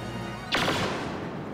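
A single sharp blaster shot in Star Wars: Battlefront multiplayer cracks out midway, followed by a short decaying tail over steady background noise.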